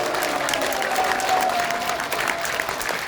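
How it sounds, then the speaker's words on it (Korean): A crowd at a Korean outdoor rally-style launch event gives a dense, steady round of applause, many hands clapping together at close range with a faint murmur of voices underneath. "다시 한번 큰 박수를 보내주시기 바랍니다"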